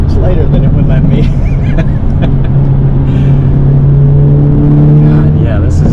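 Engine of a 2023 Hyundai Elantra N pulling hard, its note climbing in pitch and then dropping at an automatic gear change before rising again. The sound is loud and close inside the car, and people talk over it throughout.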